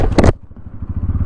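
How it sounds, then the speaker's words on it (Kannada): A Bajaj Pulsar NS200 motorcycle engine idles after starting, a low steady putter with a rapid pulsing beat, heard close, following a short loud burst at the start. "ಇಂಜಿನ್ ಸೌಂಡ್ ಈ ತರ ಕೇಳಿಸುತ್ತೆ"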